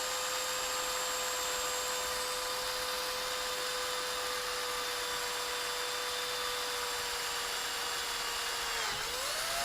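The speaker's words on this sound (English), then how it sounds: "And we drilled all the way through" A brand-new bit drills steadily through a plastic Boifun action camera case, giving a loud, continuous whining hum that holds one pitch before dipping as the bit breaks through near the end.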